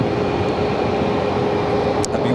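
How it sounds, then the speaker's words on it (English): A United Airlines jet moves on the ground at Phoenix airport, a steady broad roar of engines heard from a moderate distance with no voices over it. "Another United flight heading here to the north side."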